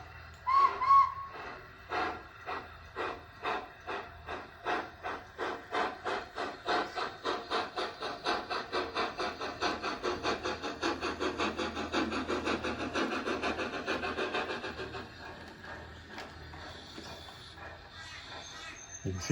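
A DCC model steam locomotive sound file plays rhythmic chuffing that starts slow and speeds into a quick, even beat before fading, with a brief whistle near the start, faint and thin throughout.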